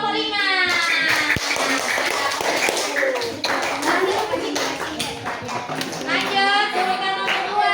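Classroom applause for a student group: a dense, sustained burst of clapping from many children, continuous and fairly loud throughout, with young voices and chatter mixed in.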